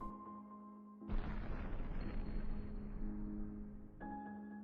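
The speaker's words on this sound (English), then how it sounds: "the first bomb went off." A deep, sudden boom from a pub bombing in Birmingham erupts over a low droning score and rolls on as a sustained rumble for several seconds before the music returns.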